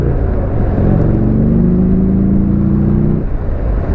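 Steady, loud engine drone of a Buell motorcycle on an open road, rising in pitch as it accelerates to overtake, with heavy wind rush throughout.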